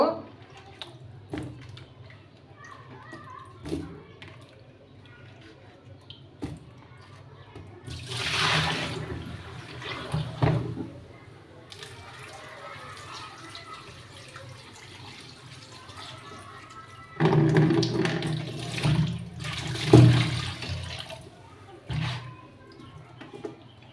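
Watermelon rinds washed under running tap water, with bursts of gushing, splashing water separated by quieter stretches of dripping and handling, close by.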